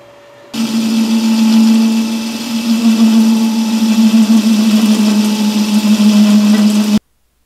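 An Atlas horizontal mill cuts an aluminum pulley, a loud, close, steady mechanical whine with rhythmic chattering pulses that starts abruptly and cuts off sharply after about six seconds.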